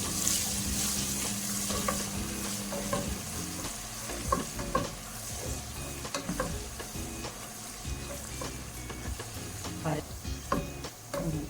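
Crushed garlic, ginger and green chili fry in a pan for chicken biryani, giving a constant sizzle with repeated scraping and stirring clatter throughout, close and fairly busy.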